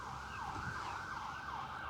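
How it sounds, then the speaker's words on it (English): An emergency siren wails in slow rising and falling sweeps on an overcast, windy day, fairly faint and distant, over a constant bed of wind and traffic rumble. "a siren just slowly coming over here"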